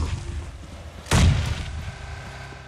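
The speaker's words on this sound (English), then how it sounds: "Mollies and nades going out." Molotovs and grenades going off in a combat video game, one sharp loud explosive burst in the middle with a rumbling tail, over a steady low background of distant gunfire and game ambience.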